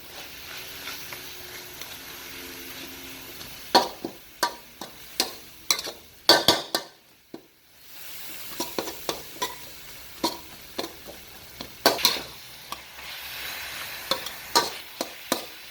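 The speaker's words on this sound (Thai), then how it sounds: "จากนั้นเราผัดต่อไปนะครับให้น้ำตาลของเราละลาย" Spatula scrapes and clacks in a pan as tamarind chili paste is stir-fried until its sugar melts, a steady run of sharp repeated strikes over a soft sizzle, close and fairly loud, with a brief quiet gap midway.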